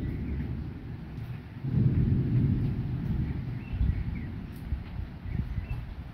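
Low rumbling thunder from a violent summer thunderstorm with a squall line and strong gusts, a dull roll swelling in the distance over wind noise, with faint bird chirps above.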